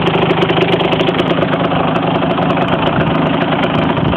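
Stock 1992 Kawasaki KX125 two-stroke motorcycle engine with an FMS pipe idling steadily, a loud, close, continuous rattling burble that holds even throughout with no voices.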